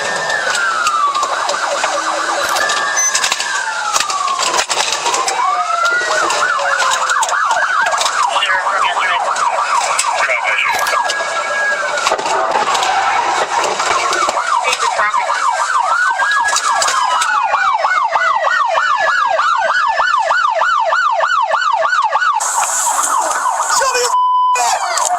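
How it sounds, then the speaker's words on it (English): Police car sirens wail continuously during a high-speed chase, loud and close, shifting between long rising sweeps and rapid yelping cycles over traffic noise, with voices underneath. "They immediately activated their sirens and initiated a pursuit."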